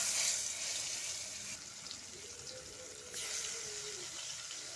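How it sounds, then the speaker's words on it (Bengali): Rithe fish frying in hot oil in a kadai give off a faint, steady sizzling hiss that carries on evenly with slight surges. "মাছগুলো একে একে ভেজে নিই।"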